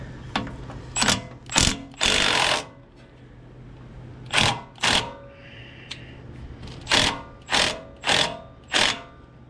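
A power tool works an 18 mm sway bar nut on a Ram 1500 during a coilover install, firing in short loud bursts with pauses between them, then a rapid run of repeated bursts near the end.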